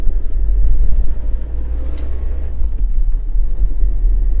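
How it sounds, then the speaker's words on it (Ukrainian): A Ford Transit Van's diesel engine drones with a low, steady rumble on the road, continuous and fairly loud, no talking. "напрягає цей дизельний звук"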